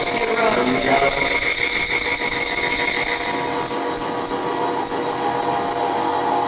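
Tool squealing on a Haas CNC lathe while cutting metal, a loud continuous high-pitched whine with a sustained piercing tone, steady throughout and easing slightly at the end.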